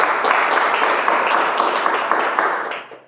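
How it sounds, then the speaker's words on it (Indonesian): Applause from the audience at a business presentation, a steady sustained clatter of many hands that stays even and then fades out quickly at the end. "Tepuk tangan buat Anda semua."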